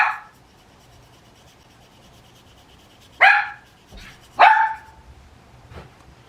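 A dog barks in a few sharp, separate bursts, one at the start and a close pair near the end, loud against a quiet indoor room with no talk.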